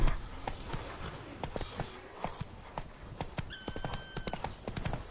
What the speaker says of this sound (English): Whoa there, Roach. Now. Let's go